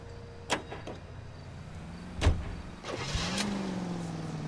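A car in the video game L.A. Noire starting off and driving, with a couple of brief thumps early on, then a steady engine hum that rises as it pulls away.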